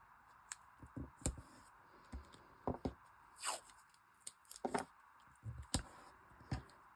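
Close, crisp bursts of sticky tape pulled from a roll and torn off during papercraft card making with floral garden masks, several sharp rips and clicks scattered irregularly, with no voices.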